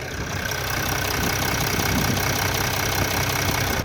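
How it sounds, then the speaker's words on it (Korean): A fully tuned Mercedes S-Class AMG engine idles steadily at close range with the engine bay open, an even low rumble with a faint ticking texture and no voices. "엔진룸 들려드릴게요"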